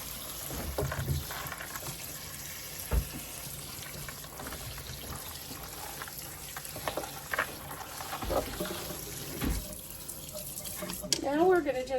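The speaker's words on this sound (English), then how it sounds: "And give them a good rinse." Dried beans rinsed under running tap water in a sink, a steady close splash with clattering as the beans are stirred, and a voice talking briefly over it.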